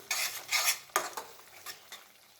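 Fish curry being stirred in a pan, a few quiet scraping strokes and light clinks of a spoon against metal, close but soft, with a faint sizzle underneath.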